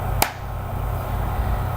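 A single sharp hand clap rings out once near the start, close and crisp, followed by a steady low background hum.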